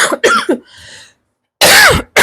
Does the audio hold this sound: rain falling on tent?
no